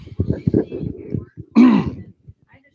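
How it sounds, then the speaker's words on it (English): A single loud throat clearing follows a stretch of quiet talking, a short rough rasp near the microphone. "clear my throat"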